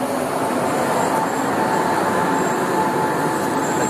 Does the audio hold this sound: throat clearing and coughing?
no